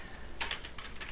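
Several quick keystrokes clack on a computer keyboard while a project name is entered, close and fairly quiet over a steady background hiss.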